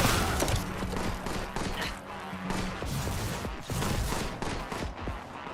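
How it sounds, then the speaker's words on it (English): Rapid overlapping gunfire from a Warhammer video game, dense and continuous bursts of shots and impacts filling the whole stretch, loud and close with no pauses. "Who's that shooting at me?"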